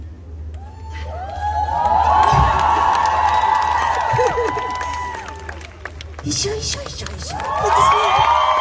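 A concert audience at an open-air summer festival erupts in applause, cheers and whoops, rising and falling in waves over loud music, with a voice speaking briefly through the crowd noise.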